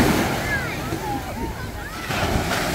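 Ocean waves at the beach in Destin, Florida, a steady wash of surf with wind noise buffeting the microphone, near and fairly loud, while a voice briefly comes through.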